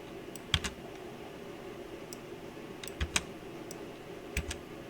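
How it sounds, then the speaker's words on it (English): Quiet keystrokes on a computer keyboard as the delete key is pressed, a few scattered clicks in small pairs over a low room hum, with no talking. "hitting the delete button on my keyboard"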